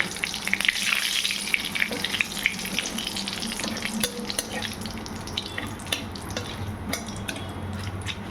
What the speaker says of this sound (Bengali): এই তেলে এখন তেজপাতা জিরে দাসি এলাচ ফোড়ন দিচ্ছি